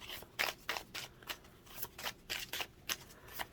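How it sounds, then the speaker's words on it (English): A deck of cards shuffled repeatedly, each riffle a quick crisp burst in a steady rhythm, close and fairly quiet. "I'm just going to go ahead and shuffle and then pull out a theme card for the month"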